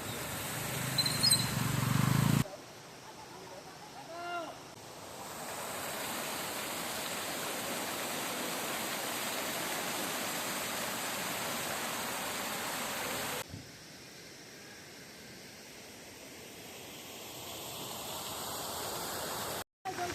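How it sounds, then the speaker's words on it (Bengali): A waterfall at Takdah near Darjeeling, a steady broadband rush of falling water that continues for most of the stretch, with a few brief interruptions and changes in level. "আর এখানে ঝর্ণা রয়েছে, একটা ঝর্ণা।"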